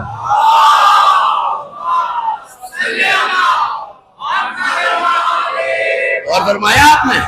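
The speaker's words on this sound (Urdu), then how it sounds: "صلوات بھی پڑھ دیجئے اتنی بلند آواز کے ساتھ" A congregation at a majlis in an imambargah in Quetta recites salawat together in loud unison, a dense wall of massed voices rising and falling in several bursts with a short lull near the middle.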